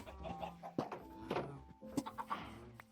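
Chicken clucking from a Minecraft game world, a few short clucks scattered through ambient game sound at moderate loudness.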